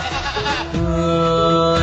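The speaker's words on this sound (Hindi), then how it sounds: "ओ बकरा ओ बकरा ओ बकरा।" A goat bleats loudly and close by in a short, wavering call that settles into a steady tone, with no other sounds around it.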